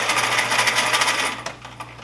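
Sewing machine stitching a dart in fabric with a back stitch, a rapid rhythmic needle clatter close up that slows and stops near the end.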